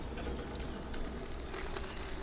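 Mint, onion, ginger and garlic sauté in hot oil for chicken biryani, giving a steady, close sizzle and crackle throughout, with no voices over it.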